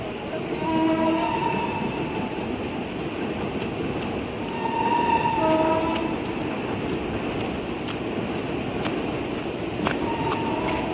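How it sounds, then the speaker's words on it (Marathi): A train passes along a railway line near the Khopoli waterfall, a steady rumbling roar with horn-like tones sounding several times over about eleven seconds, loud and continuous with no talk. "हे बघा ट्रेन पण जाते ए ट्रेन आली ट्रेन आली बघा"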